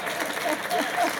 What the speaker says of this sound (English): How many women are out there clapping?